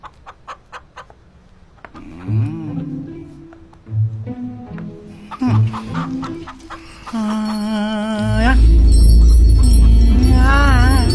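A chicken clucks and squawks in bursts, agitated cackles rising to loud, frantic flapping and screeching near the end, close and alone without talk.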